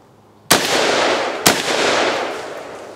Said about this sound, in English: We're going to shoot off 3 of these and show just how well it handles the recoil.